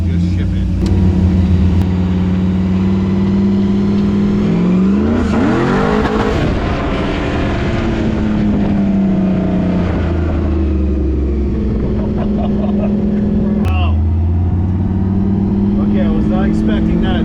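A car prepped for a burnout contest revs hard on a test drive, its engine droning loud and steady with a rising surge midway, while voices talk over it.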